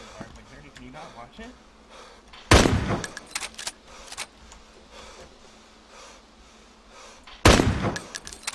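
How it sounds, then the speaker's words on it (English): Two sharp, loud bursts of gunfire in a capture-the-flag video game, several seconds apart, each followed by a scatter of smaller shots and clicks, with players talking over the top throughout. "I'm shooting at him"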